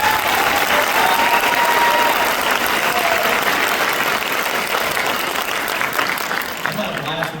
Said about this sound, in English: Another round of applause for these guys.